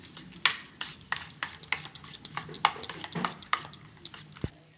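A utensil beats egg batter with chopped onion and green chilli in a bowl, giving a quick, uneven series of sharp clinks and taps against the side, close up, with no talking.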